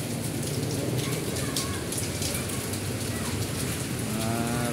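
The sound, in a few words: heavy rain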